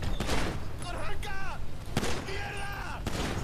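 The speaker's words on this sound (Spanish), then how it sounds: "¿Un disparo?" Gunfire in a chaotic online driving and shooting game session, sharp broadband bangs at the start, near 2 s and near 3 s, heard amid constant background game noise and overlapping excited voices.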